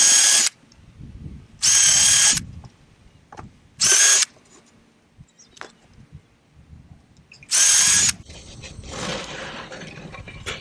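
Power drill boring holes in wood for an American kestrel nest box: four loud, separate bursts of about half a second to a second each, with quieter handling noise and faint background sounds between them.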